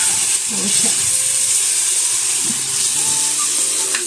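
A dosa frying on a hot pan over an open fire in a village kitchen, a steady loud sizzle and hiss that runs throughout with faint crackles and small clinks mixed in.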